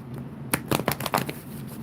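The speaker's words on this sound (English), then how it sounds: "One more shuffle." Tarot cards shuffled in a quick riffle: a burst of crisp, close, papery flutters lasting about a second after a brief quiet lead-in, with no voices.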